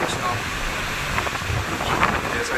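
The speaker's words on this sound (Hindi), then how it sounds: "ज़बरदस्त बारिश हो रही है भाई।" Heavy rain pours down at the Miyapur metro stop in Hyderabad, a dense, continuous roar of downpour with gusty, rumbling noise throughout.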